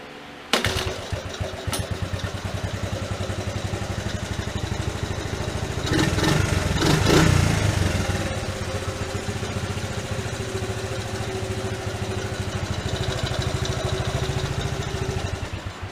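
A Honda ATC 70 three-wheeler trike starts with a short crank and catches at once. It settles into a steady, close idle and revs up briefly in the middle before dropping back to idle.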